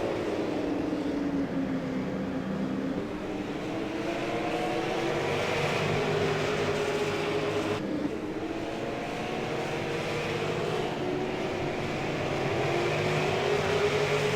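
Super late model stock cars race around the Stafford oval in a SARA GM Parts XPerts series event, a continuous loud engine roar from several cars with the pitch sweeping as they pass and circle the track.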